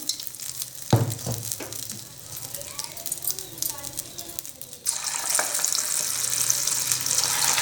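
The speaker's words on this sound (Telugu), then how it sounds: "పునుపులు వేసుకోవాలి ఆయిల్ ఎక్కింది ఇప్పుడు చిన్న చిన్నగా" Small dollops of thin ration-rice batter for punugulu drop into hot oil. A soft sizzle and a few clinks sit under a talking voice, then a loud, dense, steady frying hiss erupts and carries on to the end.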